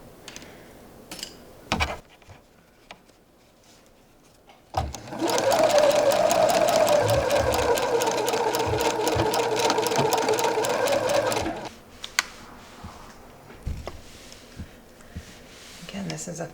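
A sewing machine runs a small seam about a quarter inch wide on a shirt, one steady burst of fast stitching close by, with quiet talk and handling before and after.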